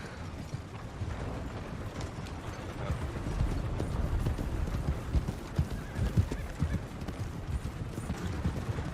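Horses in Red Dead Redemption 2 clip-clop steadily alongside wagons and deputies, hooves clattering close and loud over a dense rumble, with occasional neighs and creaking wagon mechanisms mixed in.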